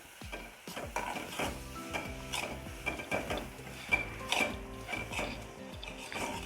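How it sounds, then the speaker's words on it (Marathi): Jaggery melting in a wok is stirred constantly over low heat, giving a rhythmic series of close scraping and clinking strokes of a utensil against the metal under a faint bubbling sizzle. "आता पाऊण वाटी गूळ घेते आणि सारखं हलवत राहायचं।"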